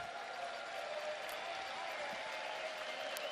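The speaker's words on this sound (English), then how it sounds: "they'll get an applause from the crowds in here" Crowd applause rises at a curling match, a steady wash of clapping from spectators in the arena, moderately loud and continuous throughout.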